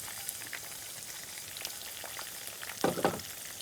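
Spices roast in a pan for brinjal curry with a quiet, steady sizzle. Near the end, a brief pair of scraping stirs stands out against the frying.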